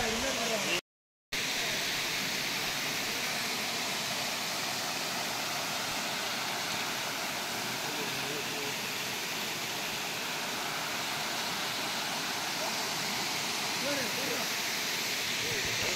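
Steady broadband rush of the falls at Pachamalai, a continuous hiss heard from nearby with no break apart from a brief dropout near the start.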